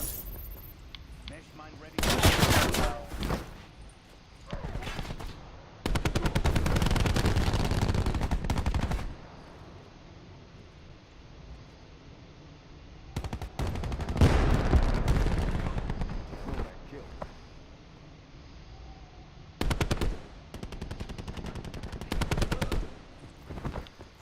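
A sensor gun fires in a video game as several loud bursts of rapid gunfire, some short and some lasting a few seconds, separated by quieter gaps, with a player talking at times.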